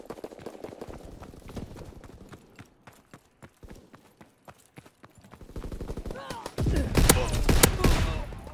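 Gunfire crackles through a Call of Duty WWII match as rapid, sharp shots and bursts. The shots grow denser and louder toward the end, with faint voices underneath.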